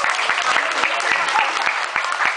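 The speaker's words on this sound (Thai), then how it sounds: "ปรบมือหน่อยครับ" Audience applause at a birthday gathering after a fundraising total is announced, dense steady clapping from a room of people with sharp individual claps standing out throughout.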